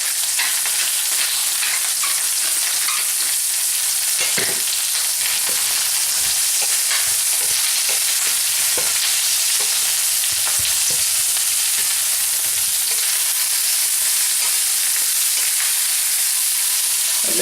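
Sliced courgette fries in a hot pan with a loud, continuous hiss and crackle. Scattered pops and soft clicks of stirring break through the sizzle, and no one speaks.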